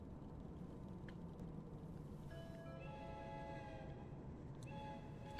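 A video game train rumbles steadily with a dense low roar, while a tonal horn or whistle sounds partway through and holds to the end. No one speaks.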